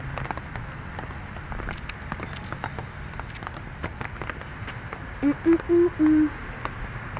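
Evening rain falls over Nairobi city in a dense, steady patter with scattered sharper drop ticks, and a short run of four electronic beeps rises above it near the end. No one speaks.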